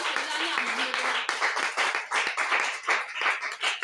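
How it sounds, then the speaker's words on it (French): A church congregation clapping in uneven bursts, sharp hand claps rising and falling in waves, while a voice speaks over it early on. "Tu vas applaudir pour celui qui veut te donner cette grâce."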